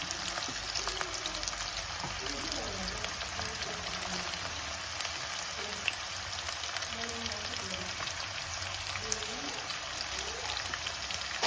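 Onion sizzles in hot oil in a pan with potato, cooking for avalakki, giving a steady close crackle that runs unbroken throughout, with faint voices in the background.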